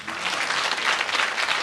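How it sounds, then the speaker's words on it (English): Steady, dense applause from an audience at the We the Women 2026 event at the Anil Agarwal Riverside Studios in London, sustained and even throughout with no break. "I'm not looking for an applause there."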